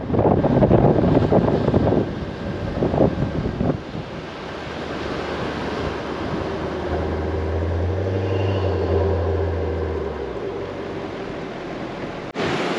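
Steady wind blowing hard across an open shoreline at Pender Bay on the Dampier Peninsula, with surf rolling in underneath under overcast skies; gusty rumble throughout, no voices.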